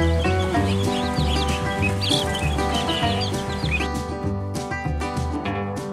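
A baby duck peeps in high, quick chirps over a dense, steady background of tonal sound, the calls clustering early and thinning toward the end.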